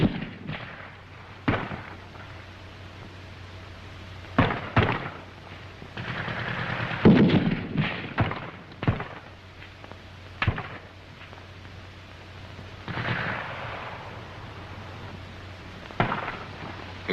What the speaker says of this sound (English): The grenades open up the charge.